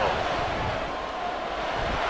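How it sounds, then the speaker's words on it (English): Big crowd noise at an NFL wild card game between the Browns and Texans, a sustained roar of fans building up before a third down, steady and dense throughout with no clear break. "the crowd getting into it as we come up on a big third down"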